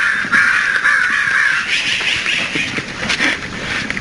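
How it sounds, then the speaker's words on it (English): A crow caws repeatedly on a morning walk in San Francisco, a run of harsh rasping calls at close range, with no talk over them. "There is crow."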